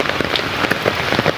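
Heavy rain pouring down during a rainy-season storm, a dense, constant hiss of drops pattering loudly on surfaces close by, with no voices.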